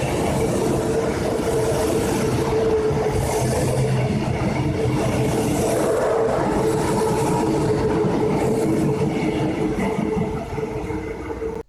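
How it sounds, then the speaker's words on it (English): A southbound ICE train passes through Virginia station, a loud, steady rolling roar with a few wheel clacks, fading slightly near the end, with no talking. "Yet another southbound ICE train at Virginia."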